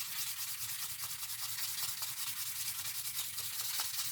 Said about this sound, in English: We're going to do a little bit of polishing on this edge